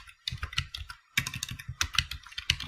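Someone is typing HTML on a computer keyboard with rapid, close-up key clicks in quick irregular bursts and one brief pause partway through.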